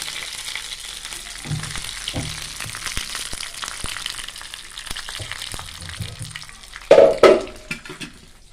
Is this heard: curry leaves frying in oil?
yes